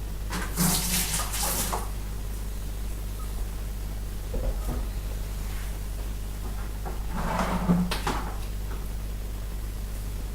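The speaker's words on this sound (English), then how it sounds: "clear sugar syrup going into fermenter, which is down there. Pour that in." Clear sugar syrup pours steadily with a hollow splashing into a homebrew fermenter, in two bursts separated by a quieter pause, with a faint steady hum underneath.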